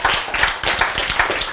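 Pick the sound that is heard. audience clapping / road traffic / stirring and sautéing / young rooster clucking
audience clapping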